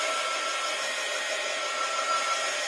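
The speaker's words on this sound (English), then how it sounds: "And I get out my heat gun." A heat gun blows continuously while drying an art journal page, a steady airy fan roar with no talk.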